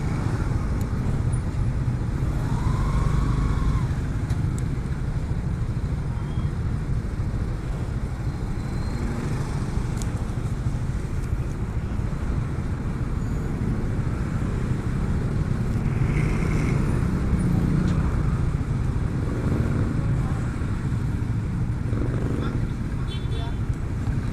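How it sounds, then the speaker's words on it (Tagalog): Heavy December road traffic in Naga, with a steady, dense roar of cars and motorcycles close by, continuous engine and tire noise throughout and a few faint horn-like tones rising briefly above it. "December na kasi kaya sobrang traffic na dito sa Naga."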